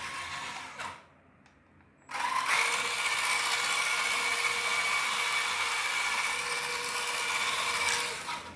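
A steady, loud whirring whine from a Pinecone Forest 2402 central gearbox assembly with a sound fault runs almost continuously after a brief lull near the start, with a thin high tone running through it.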